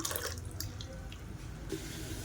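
Water poured or running into a mixer jar to rinse out ground chutney, a steady wet splashing and trickling close by, continuous for a couple of seconds with no voices.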